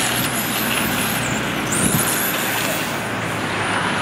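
Hot pink, neon green and blue TC 13.5 race cars run a track, a steady high-pitched motor whine and whir sweeping up and down over broad continuous noise throughout.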